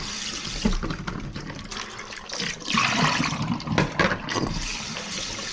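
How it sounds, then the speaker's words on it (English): Tap water running and splashing into a container of frozen shrimp to thaw them in a kitchen, a steady rushing flow with a few louder surges and no talk. "To thaw, I usually just add some water and wait a few minutes."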